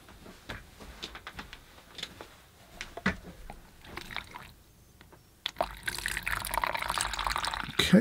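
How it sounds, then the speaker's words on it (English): Bottled water pours into a collapsible water container, a close, steady splashing gurgle that starts partway through after quieter rustling and handling sounds. "I'm going to put right into the container, the collapsible water container."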